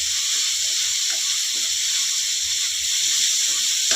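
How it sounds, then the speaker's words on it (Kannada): Onions with cumin and curry leaves frying in hot oil, giving a steady, dense hiss that stays even and fairly loud throughout, with no stirring strokes and no talking. "ಈರುಳ್ಳಿ ಸ್ವಲ್ಪ ಚೆನ್ನಾಗಿ ಫ್ರೈ ಆಗಲಿ"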